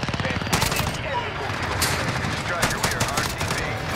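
A FAL rifle fires in the video game Modern Warfare, a rapid series of loud, sharp gunshots cracking through a busy, noisy background of game sound.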